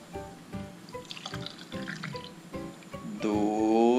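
Listerine mouthwash poured into a popsicle mold, a close trickle and splash that ends in a rising, ringing fill tone as the cavity nears full.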